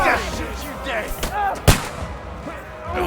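Battle in Kingdom Come Deliverance 2 with one sharp, loud gunshot cracking through a dense mix of shouting soldiers and clashing commotion, followed by more distant thuds.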